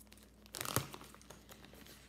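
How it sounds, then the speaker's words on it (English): Packaging crinkles in a brief burst of crackling near the middle, faint and close, with quiet room tone before and after. "crinkling"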